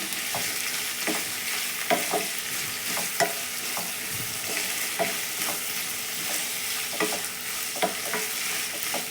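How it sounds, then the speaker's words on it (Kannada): Bitter gourd pieces fry in hot oil in a pan with a loud, continuous sizzle. Regular spatula scrapes and taps against the pan come every second or so. "ಹಾಗಲಕಾಯಿ ಹಾಕ್ಕೊತ ಇದ್ದೀನಿ. ಚೆನ್ನಾಗಿ ಫ್ರೈ ಮಾಡ್ಕೊಳ್ಳೋಣ ಇದನ್ನು."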